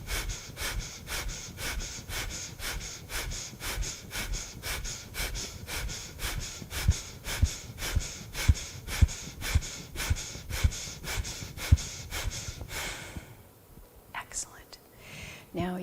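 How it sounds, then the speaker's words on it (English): Rapid nasal breath-of-joy exercise pumps, a steady series of about two dozen sharp, evenly spaced breaths close to the microphone, ending in a quieter exhale and pause. "27 pumps"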